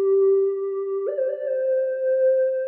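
A synthesized flute processed with RC-20 Retro Color saturation and Valhalla VintageVerb reverb holds a sustained airy tone, shifting to a slightly different pitch partway through, with a soft warm wash around it and nothing else.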